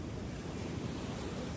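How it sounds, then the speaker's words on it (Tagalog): Strong ocean waves at Cabangan beach in Zambales roar as a steady, dense wash of surf, with wind buffeting the microphone throughout and no distinct breaks between waves. "Kasi sobrang lakas pa rin ang alon dyan."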